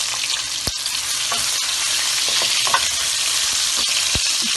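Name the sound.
onions frying in a pan for capsicum keema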